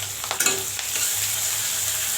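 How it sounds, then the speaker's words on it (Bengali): Onion and chilli frying in a pan while preparing an ash gourd dish, a bright continuous sizzle with a few quick stirring clatters near the start, close and fairly loud, no voices. "এইভাবে একটু লাল লাল করে ভেজে তারপরে মনে করেন পেঁয়াজ মরিচ"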